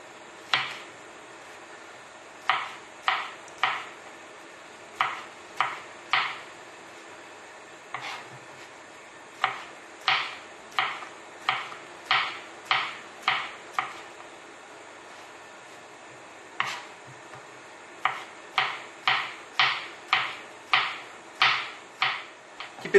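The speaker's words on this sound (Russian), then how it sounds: "Грибы просто мелко режем." A knife chops mushrooms finely on a board for meatball soup, crisp sharp knocks in quick bursts of three to six strokes separated by short pauses, close and clear against a quiet background.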